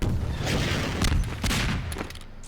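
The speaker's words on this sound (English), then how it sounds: "Again, you see him shooting the roof, trying to get more damage done." Gunfire in the Half-Life 2 Deathmatch shooter during a one-on-one match, with dense bursts of shots and impacts running loud and continuous throughout, and no talk over it.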